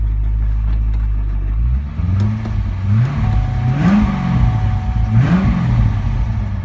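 At a Texas car auction, a car engine cranks and fires up, then revs in several rising and falling bursts, loud and close, with no talk.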